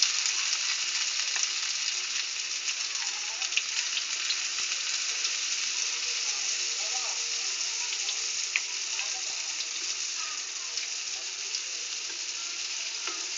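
Fish lumpia sizzle and crackle steadily in hot oil, a dense, even frying hiss with small pops throughout and no voices.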